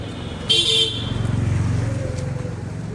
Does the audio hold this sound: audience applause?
no